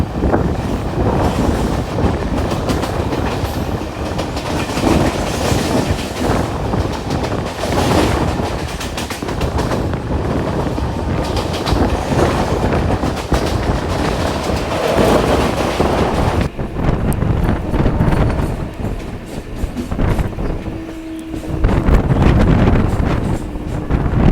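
A local train runs from Sealdah toward Dankuni, with a loud, continuous rumble of wheels and carriages and heavy wind noise rushing past the microphone throughout.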